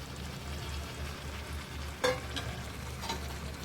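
Chicken stir-fried with a wet spice paste in a pan for chicken kosha, a steady bubbling sizzle under stirring, with one sharp clack of utensil on pan near the middle, no voices.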